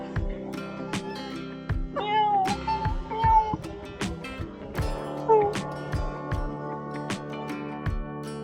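A friendly temple cat at Baolin monastery on Danxia Mountain in Shaoguan gives a couple of drawn-out, bending meows, moderately close, over a background of regular sharp percussive ticks and low tones.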